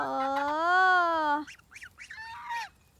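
A loud, drawn-out honk from a nearby goose being fed papaya, followed by several shorter, higher honks and cackles as more geese answer.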